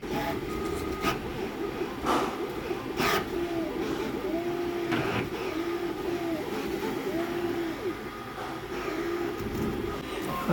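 A 3D printer prints a Lexus IS250 mirror cover, its stepper motors whining in steady sweeping tones with repeated rising and falling pitch glides over a constant mechanical hum, close and continuous throughout.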